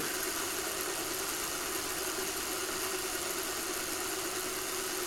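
Model locomotive motor running inside the tender, a steady high-pitched electric whine with even hum and no pauses, close and continuous on its own.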